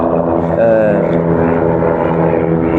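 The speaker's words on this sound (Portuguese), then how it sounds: "Está passando helicóptero." A helicopter passes somewhere outside, a steady droning rotor and engine hum that holds level for a few seconds beneath a speaking voice.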